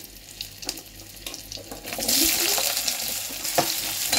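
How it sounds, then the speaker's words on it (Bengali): Cut potatoes drop into a frying pan of hot oil with bay leaf and dried and green chillies; quiet clatter gives way to a sudden, loud sizzle that continues close by. "এই যে কাটা আলুগুলো, আমি আলুগুলো কেটে রেখেছিলাম সেটা দিয়ে দিচ্ছি এখানে।"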